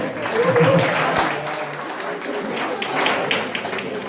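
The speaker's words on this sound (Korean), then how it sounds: "자, 여러분 박수 한 번 주십시오." Audience at an amateur golf tournament award ceremony at a country club claps in a warm, steady round of applause that swells early and tapers gradually over several seconds, with a few voices mixed in.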